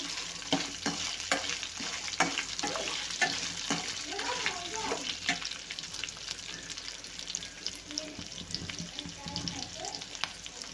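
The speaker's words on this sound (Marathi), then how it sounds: "आता हे पूर्ण आपल्याला छान भाजून घ्यायचं आहे" Onion sizzles in a hot pan while a spatula scrapes and stirs in uneven strokes, close and moderately loud, with a voice talking at times.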